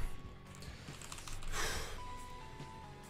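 Computer keyboard keys clicking during a Binding of Isaac: Repentance game session, soft irregular taps under game music and effects, faint and close.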